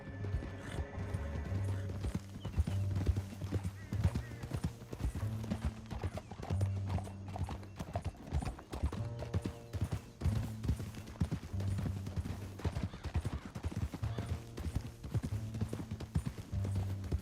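Horse hooves gallop in Red Dead Redemption 2, a fast, steady clip-clop rhythm with tack rattling and a faint whinny early on, moderately loud and continuous throughout.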